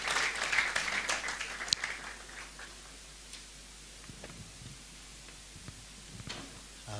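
A church audience applauds a music group at a special service in La Paz; a dense burst of clapping fills the first two seconds, then thins to a few scattered claps and quiet room noise.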